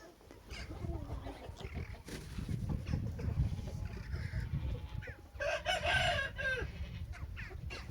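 Roosters crow and cluck nearby over a busy farmyard background, one long crow rising clearly in the middle of the clip.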